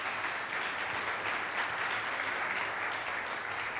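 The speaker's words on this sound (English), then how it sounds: "Let's give ourselves a big round of applause for that" Audience applause at a university president's fall forum, a dense, steady wash of many hands clapping that holds evenly for several seconds without talk.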